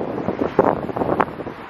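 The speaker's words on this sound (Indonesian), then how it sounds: "Makanya sejuk, suasananya angin sepoi-sepoi." A beach breeze in the late afternoon buffets the microphone with steady rumbling gusts, a broad windy roar with a few stronger puffs and faint surf-like wash underneath.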